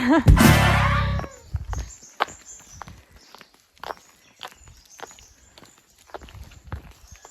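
Footsteps along a forest trail in Khao Yai on the way to Haew Narok waterfall: a loud rustling burst at the start, then sparse, soft, irregular steps crunching on the path, close and quiet.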